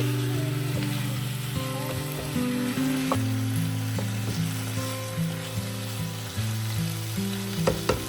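Pineapple curry with chopped coriander leaves cooking in a pan, a constant soft sizzle with occasional stirring scrapes, heard beneath steady background music.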